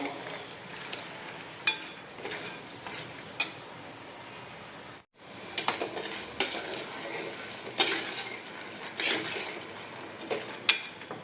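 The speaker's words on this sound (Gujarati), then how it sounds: "બીજું પોળું વાસણ લઈ અને શેકવાનું સ્ટાર્ટ કરી દીધું." Roasting in a second, deeper cooking pot on a gas stove, with a utensil scraping and clinking against the metal in irregular sharp taps over a steady low background hiss.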